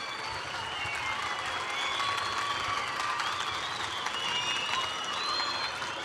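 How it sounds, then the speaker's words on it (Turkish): An audience at a school supplies event applauds teachers, steady dense clapping from a large crowd, sustained and fairly loud with faint cheering mixed in. "kesinlikle alkışlayın öğretmenlerinizi."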